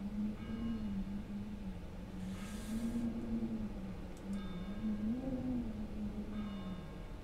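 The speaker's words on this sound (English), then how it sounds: "What is that bell?" A bell in the climbing game Getting Over It rings on as a sustained wavering tone that rises and falls slowly, fairly quiet over a faint background, with no talking.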